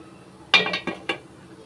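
A steamer pot of wheat-flour puttu and pumpkin opened and handled: three or four close clinks and knocks of metal lid and dishes in quick succession, then quiet.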